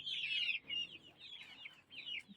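Chickens clucking softly in a few short, repeated calls, fairly faint and close by, with no talking.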